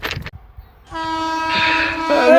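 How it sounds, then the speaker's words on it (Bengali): A train horn blares close and loud in one long sustained blast that swells toward the end, following a moment of voices and handling noise at the start. "একটা ট্রেন আইতেছে"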